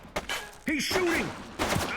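Gunfire in the police video game The Precinct: a few sharp bursts of shots mixed in with in-game voices talking over the action.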